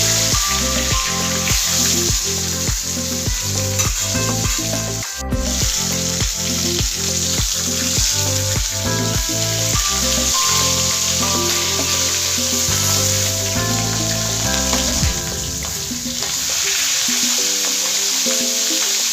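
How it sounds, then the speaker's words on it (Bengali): Fish heads frying in hot mustard oil for a fish-head dal, giving a loud, steady sizzle that carries unbroken from start to finish, close by and with no voices. "এবারে সাবধানে মাছের মাথাগুলো তেলে ছেড়ে দেব, দিয়ে মাথাগুলো ভালো করে ভেজে নেব।"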